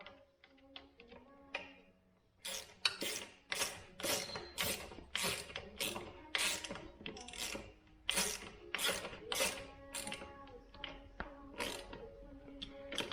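A ratchet tightens bolts on an auxiliary fuel tank fitted to a Yamaha WR250R motorcycle, with rapid bursts of clicking pawl strokes coming in repeated runs at close range, with no voices.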